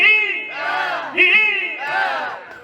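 A crowd at a birthday party shouts three cheers for the birthday man, loud overlapping voices rising in two or three big rhythmic swells close by.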